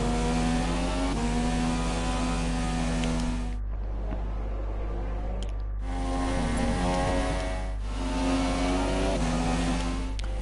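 Race cars leaving the pits onto the track at a Spanish circuit in a pre-season F2 trial race, including both McLaren Hondas: loud, steady high-pitched engine whine that drops out briefly mid-clip, then resumes.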